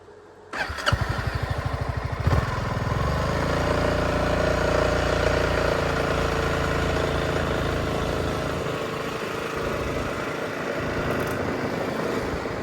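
A motorcycle on a hillside road in Phrae, Thailand, starts and revs, then holds a steady, loud, close engine drone as it rides along.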